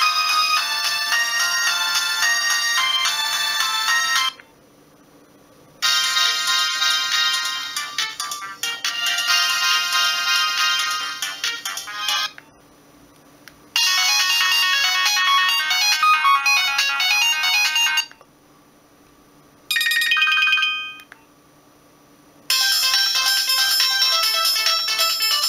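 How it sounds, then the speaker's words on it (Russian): Media ringtones from a Nokia 1202 mobile phone, several short polyphonic melodies played one after another, loud and clear with brief silent gaps between each tune. "Медийные рингтоны."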